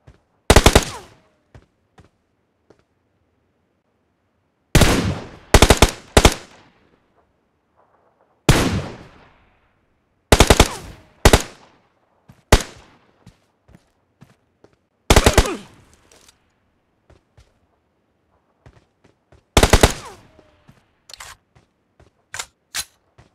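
Shots from a scoped gun in a mobile shooter game come as sharp, loud cracks in short bursts of two or three, spaced several seconds apart with near silence between them.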